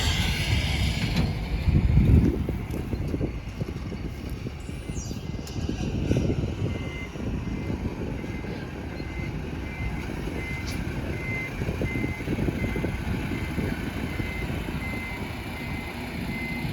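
A six-wheel dirt-hauling truck running, its engine droning steadily and close with repeated rumbling surges, faint beeping and rattles over the continuous motor noise.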